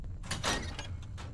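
A door in the video game Fallout 4 slides open with a short mechanical whoosh and a faint rattle, quiet and brief.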